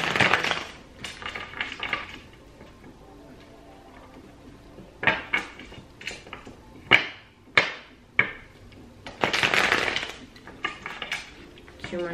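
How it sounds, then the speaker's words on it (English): A deck of tarot cards is shuffled by hand at close range: a series of sharp riffling bursts and crisp taps with short quiet gaps between them. "Give me four shuffles for the sign of Gemini."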